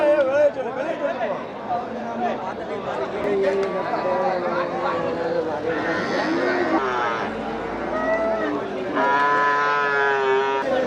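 Cattle lowing repeatedly at a busy outdoor livestock market in Melapalayam, Tamil Nadu, loud nearby moos rising over constant crowd chatter and people talking.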